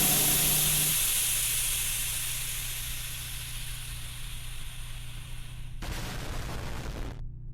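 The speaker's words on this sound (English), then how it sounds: "The atomic bomb explosion sound was less ear explosive than the freaking steam valve." A loud, harsh steam valve hiss in the video game BancyCo's Home, blasting continuously and slowly fading, then a short burst of broadband noise before it cuts off.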